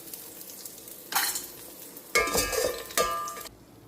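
A fried ingredient is stirred and lifted out of a pan, with a soft background sizzle and three sharp bursts of louder frying and metal utensil clinks, close up and with no speech.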